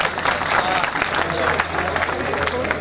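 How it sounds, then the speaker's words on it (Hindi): Dense, steady clapping comes from an audience at a safe-manhours celebration ceremony for a Descon BHP Zamzama Phase-II project. The applause is close and continuous throughout, with a crowd murmur underneath. "तालियां बजा दें लोगों के लिए।"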